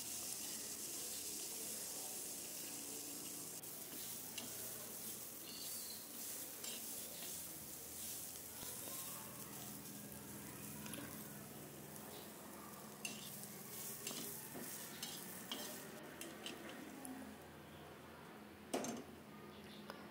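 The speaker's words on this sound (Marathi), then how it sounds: "तेल टाकून आपल्याला हे दाणे चांगल्या प्रकारे परतून घ्यायचे आहे" Fresh pigeon pea grains roast in oil on a flat griddle pan. A soft, steady sizzle is broken by repeated scraping stirs, with occasional sharper clicks, and the whole sounds quiet and close.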